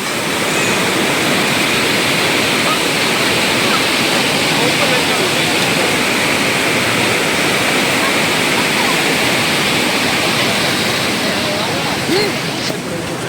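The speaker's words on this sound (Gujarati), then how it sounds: "અત્યારે ઉપરથી પાણી જાય" A loud, steady roar of floodwater rushing through the streets of Junagadh after heavy rain, dense and unbroken from start to finish.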